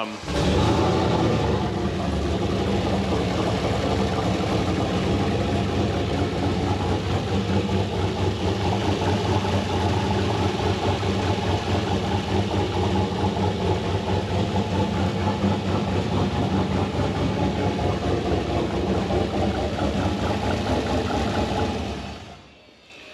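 A powerful turbocharged LS1 V8 engine in a Nissan GU ute idles after its first start, with a rough, throbbing rumble, holding steady for about twenty seconds before cutting off abruptly.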